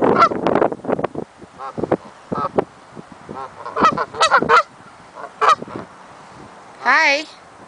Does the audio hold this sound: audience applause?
no